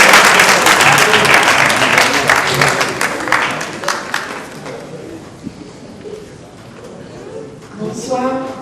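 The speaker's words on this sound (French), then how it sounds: "Applaudissez là." Studio audience applause for a contestant at a televised French spelling championship, dense clapping that loudens and thins, then fades as a host begins speaking at the end.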